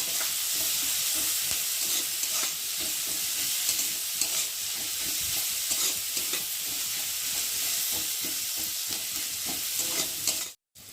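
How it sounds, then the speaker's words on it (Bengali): Onion and whole green chillies fry together in a pan with a constant, close hissing sizzle and faint stirring scrapes, cutting out abruptly just before the end. "দিয়ে একসাথে পেঁয়াজটাকে লঙ্কা ভালো করে ভেজে নেব।"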